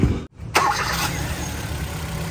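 A car engine idles steadily after a brief cutout, a smooth even hum with no roughness, close by and alone.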